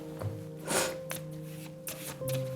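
Cards from a handmade tarot deck shuffled and drawn: several quick papery swishes and flicks, with one fuller burst in the middle, over steady tonal background music.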